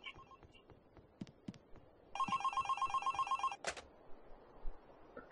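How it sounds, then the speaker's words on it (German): A telephone rings inside the video game Traumfänger, an electronic bell trilling in a steady burst of rapid pulses for about a second and a half, clear and close over a quiet backdrop with a few soft clicks. "Das Telefon klingelt?"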